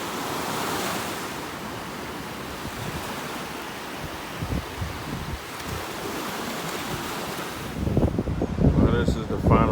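Ocean surf and gusty wind buffet the microphone at a Puerto Rico beach where fresh water meets salt water, a steady roaring wash with louder rumbling bursts near the end.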